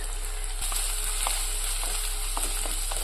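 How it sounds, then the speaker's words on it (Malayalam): Ginger, garlic and green chillies sizzle in hot oil in a pan for a restaurant-style mackerel curry, a steady close frying hiss broken by faint scrapes of a spoon stirring, with no voices. "ഇഞ്ചി വെളുത്തുള്ളി ചേർത്തെടുത്തതിന് ശേഷം നമുക്ക് കുറച്ചൊന്ന് ആ ഒരു പച്ച മണം മാറി വെക്കുന്ന പോലെ ഇളക്കി കൊടുക്കാം"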